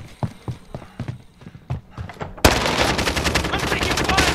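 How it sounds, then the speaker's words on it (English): Sustained bursts of automatic gunfire in a multiplayer shooter video game erupt loudly about halfway through, following a stretch of quieter game sounds with footstep-like clops and brief pops. "I'm taking fire!"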